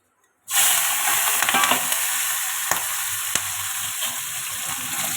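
Prawns drop into hot oil and burst into a loud, close, sustained sizzle that hisses steadily, with a few faint pops and clinks.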